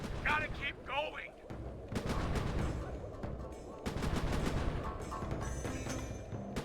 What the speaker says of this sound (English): are these supposed to be like similar to your fireworks, Panda King? Because if so, you are leveling mountains with one firework